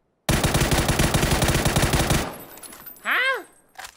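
A rapid, loud burst of automatic gunfire in PUBG rattles for about two seconds and stops abruptly, followed by a short electronic game tone.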